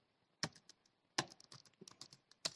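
Quiet bursts of typing on a computer keyboard, with sharp isolated key presses and a short run of rapid clicks between them, close and alone.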